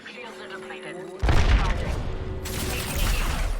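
Gunfire in a video game, a sudden loud burst of shots and booms that keeps going as dense rapid fire, with a sharp rise again partway through, close and heavy.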